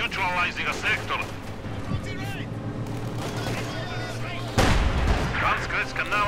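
In the wartime strategy game Company of Heroes 2, a StuG Ausf. E assault gun fires its low-velocity 75mm gun with a heavy booming blast amid other battle noise, while a commentator talks throughout.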